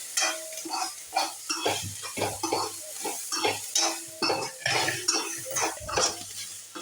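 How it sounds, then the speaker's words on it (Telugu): Onions frying in a pan as a spoon stirs and scrapes them, steady rhythmic clinks and scrapes over a continuous sizzle, close and fairly loud, no talking, while a stuffed brinjal curry is being cooked. "ఉల్లిపాయలు వేగిపోయాయి అత్తమ్మా వేగిపోయాయి"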